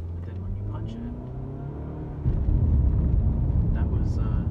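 A Nissan car engine with an XTronic CVT hums steadily, then surges into a loud, sustained roar as the vehicle accelerates hard, pitch staying fairly even rather than climbing through gears.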